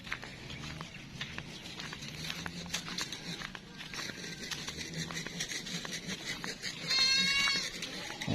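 A healthy, glossy-coated farm goat bleats near the end, a loud wavering cry following softer rustling and footsteps in the pen, with someone talking over parts.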